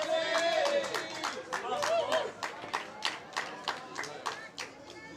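At a women's over-60 World Cup hockey match in Cape Town, the crowd claps rhythmically in steady, evenly spaced beats to urge on South Africa against the Netherlands, with voices calling out over it.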